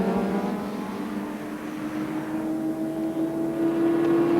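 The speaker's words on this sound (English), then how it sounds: "Now Aiello takes the lead on the back straight chicane" Super Touring race cars from the 1998 STW championship at speed on a fast, aerodynamic circuit, a steady loud engine drone with a sustained tonal whine that rises toward the end, no voices.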